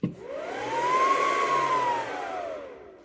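A WeCreat Lumos galvo laser engraver powers on with a loud startup whir. A fan-like roar rises in pitch, holds, then sinks again over about three seconds, close by, with no one talking.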